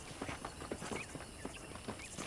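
Horse hooves clip-clop at a walking pace in Red Dead Redemption, a faint, even rhythm of distinct knocks on ground on a ranch property, with no talk.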